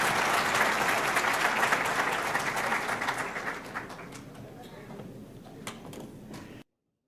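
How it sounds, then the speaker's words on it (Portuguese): Audience applause at a seminar talk on constitutional rights and labour reform: dense, sustained clapping from a crowd, loud at first and gradually thinning and fading over several seconds. "Portanto, nosso aplauso para o Dr."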